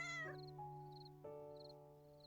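A cat meows in the video game Little Witch in the Woods. Several short, faint, tonal meows sound alone over quiet game background chimes.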